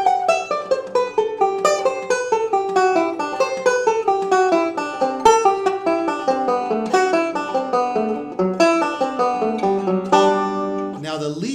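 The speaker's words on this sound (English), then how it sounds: "So if I'm coming down from a G melodic scale, to sequence that, would sound something like this." A string instrument plays a sequenced descending G melodic scale, a steady run of plucked notes stepping downward in repeated groups with a few upward leaps, close and clear with no talking.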